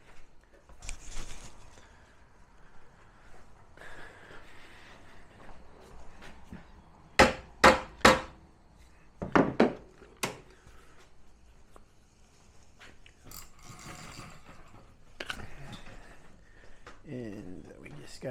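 A hammer gives a Razor C35 electric scooter motor a few sharp taps, heard as two quick clusters of three loud knocks at close range, with quieter handling and rustling before and after.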